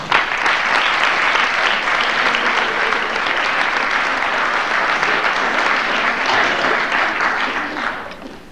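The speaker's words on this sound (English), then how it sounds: "tonight I think we should join and applaud all of ourselves" Sustained applause from an audience at a school fall sports awards night, steady and dense throughout before tapering off at the end.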